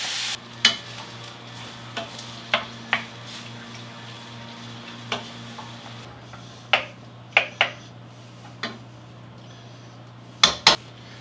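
A spoon scrapes and taps against a pan while breaking up roasted red peppers, giving a dozen or so sharp separate clinks and knocks spread irregularly over a low steady hum, with no talk.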